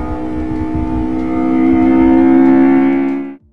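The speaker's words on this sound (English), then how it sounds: "it comes from Toyota's legendary 4AGE series of engines." A Toyota 4AGE engine in an AE86 Trueno revs loud and close, its tone climbing steadily as the revs rise for about three seconds before it cuts off abruptly.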